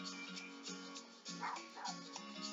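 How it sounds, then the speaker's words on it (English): A pet dog yips and whimpers in short bursts indoors, heard alone at moderate distance over a steady background hum. "my dog is barking"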